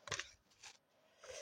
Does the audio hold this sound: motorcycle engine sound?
no